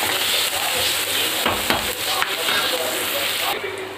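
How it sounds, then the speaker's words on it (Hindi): Two onions frying in oil with mustard seeds for paneer pulao, a dense, close hiss of frying with light stirring, no voice over it. "इसमें डाल रहे हैं हम दो प्याज। हमें बहुत ज़्यादा ब्राउनी करनी है, बस इसका कच्चापन निकालने तक इसको फ्राई करना है बस"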